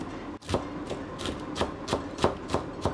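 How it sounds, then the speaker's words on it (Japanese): Green onions being finely minced with a knife, a run of evenly spaced crisp chops on a board, about eight strokes at a steady rhythm, close and clear with no talking. "まずは、ネギを、もう粉々に、みじん切りにしていきます。"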